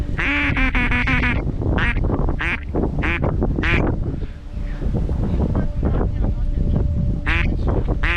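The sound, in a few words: ducks quacking during duck hunt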